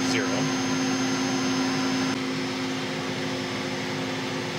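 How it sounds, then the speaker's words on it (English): Spindle of a Tree Journeyman 325 CNC milling machine running steadily, a constant mechanical whine and hum that holds throughout at close range, dropping slightly in level partway through with no pause. "Yeah, that's very close to 0 now, but the spindle is not stopped."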